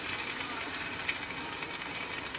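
Chopped ginger dropped into hot oil already holding dried red chillies and bay leaves, giving a steady, fairly quiet hissing sizzle that runs evenly throughout.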